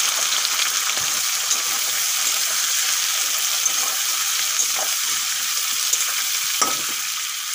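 Chopped onions with a pinch of salt fry in a pan for a duck curry, giving a steady, loud sizzle that runs throughout, with a few soft stirring clinks and no talking.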